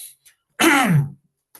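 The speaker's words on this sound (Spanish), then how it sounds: "me dio como una carraspera" One short, gruff throat clearing up close, set between a couple of faint breathy sounds in otherwise quiet surroundings.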